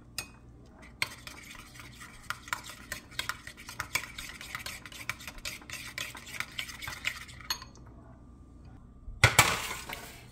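Caesar salad dressing stirred briskly in a bowl, with a steady run of close scraping and clinking from the utensil, ending in a louder, sharper clatter near the end; no talking.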